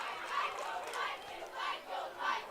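Cheerleaders and a crowd cheering at a high school football game, Moundridge vs Herrington, in rhythmic bursts of shouting voices repeating about every half second to second, moderately distant and steady.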